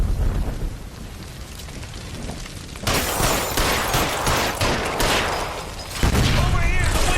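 Gunfire and a gas line explosion inside a burning electroplating building in L.A. Noire, heard as a dense, loud roaring blast that swells abruptly and sustains with crackling texture, with a second surge near the end and voices shouting over it.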